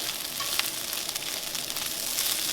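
Corned beef hash fries in a non-stick skillet with a soft, steady sizzle and light crackle, fairly quiet and continuous, with no voices over it.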